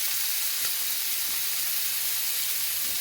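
Pieces of corned beef sear in a hot pan for St Patrick's Day, giving a dense, continuous sizzling hiss up close with small pops and no talking.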